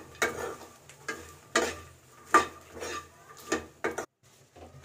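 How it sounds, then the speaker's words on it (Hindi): Makhana (fox nuts) tossed and frying in ghee in a pan for a harira recipe, with repeated stirring scrapes and soft sizzling bursts at an uneven rhythm, close up and moderately loud with no talking. "तो इसी में हम अपने मखानों को भी फ्राई कर लेते हैं"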